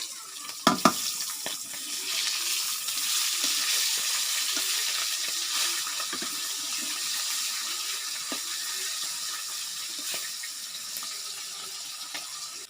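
Hilsa fish frying in oil while being flipped, with a couple of sharp knocks at the start, then a steady hissing sizzle broken by light scrapes and taps.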